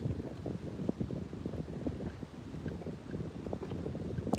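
Wind gusting outdoors on a lake during a bass fishing trip, a steady low rumble buffeting the microphone with a few knocks and thumps mixed in, close and continuous, no voices.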